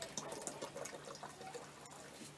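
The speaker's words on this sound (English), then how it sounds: "we're going to rapidly oxidize our ferrous chloride by adding small amounts of hydrogen peroxide" Hydrogen peroxide is poured in small amounts into ferrous chloride solution while making ferric chloride for blade etching, giving a faint, steady trickling, splashing liquid sound heard alone.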